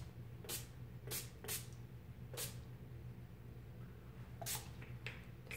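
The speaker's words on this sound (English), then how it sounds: "Miracle Makeup Finishing Spray." Mary Kay Miracle Makeup Finishing Spray misted during a morning makeup routine: several short, breathy hissing spritzes, unevenly spaced with a longer gap near the middle, fairly quiet and close, with no talking.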